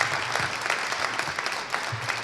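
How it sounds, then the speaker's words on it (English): A crowd applauds at an event welcoming Jill Ellis, a brief, dense burst of clapping at a steady level with a faint voice beneath it. "Please clap your hands"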